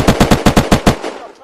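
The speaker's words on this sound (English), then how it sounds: "Oh, shots fired." A rapid burst of about seven gunshots in the video game Unturned, evenly spaced and loud, followed by a fading echo with no talk.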